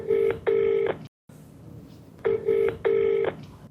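Telephone ringback tone as a call is placed: two pairs of steady electronic rings, each pair of short buzzing tones, separated by a brief silence, clear and close with faint background hiss.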